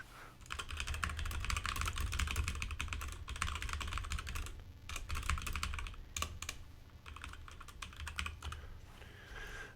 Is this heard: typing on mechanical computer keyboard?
yes